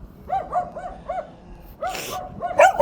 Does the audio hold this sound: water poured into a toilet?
no